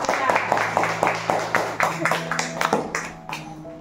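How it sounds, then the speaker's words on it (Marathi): Children clapping together at a prize-giving ceremony for a housing-society fort exhibition, a brisk run of many close, overlapping claps that loosen and thin toward the end, with a voice talking over them. "मग मुलांनो तयार का? टाळ्या वाजवा की जोरात."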